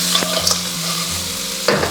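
Swimming crabs pan-fry in a wok over medium heat after scallion and ginger, giving a steady close sizzle with scraping and shaking of the pan; no talking.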